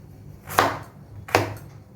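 Two sharp knife chops through a hard vegetable on a cutting board, spaced apart and close, with quiet pauses between.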